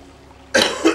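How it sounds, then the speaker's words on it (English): A single harsh cough erupts after a quiet moment, close and loud, with a short second burst trailing off. "I can't shake a cough at the moment"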